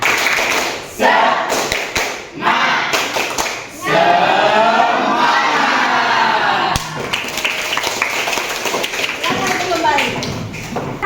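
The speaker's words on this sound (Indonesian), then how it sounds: "Yuk semuanya berdiri dulu, kita tepuk semangat." High school class standing for a rhythmic group spirit clap, loud patterned clapping and tapping in bursts, mixed with the voices of students chanting and calling out together.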